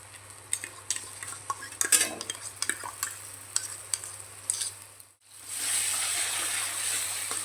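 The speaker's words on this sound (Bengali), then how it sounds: "টক দইটা দিয়ে মশলাটা ভালো করে আবারও কষিয়ে নেব" Spice paste with whisked sour yogurt stirred in a pan for a vegetarian jackfruit biryani: a close, busy scrape of a spoon with soft sizzling, which then gives way to a steadier, louder hiss of frying.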